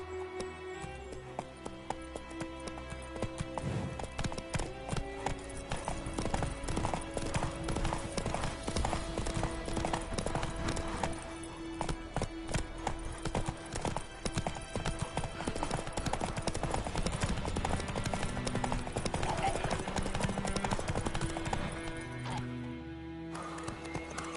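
Roach, the horse in The Witcher 3, gallops with a steady, rapid clip-clop of hooves that runs nearly nonstop, mixed with whinnies and ambient game sound, loud and close.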